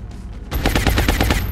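Rapid automatic gunfire from a squad firefight in XCOM Long War on Impossible difficulty, starting after a brief quiet moment and continuing as a dense, loud burst of overlapping shots for about a second.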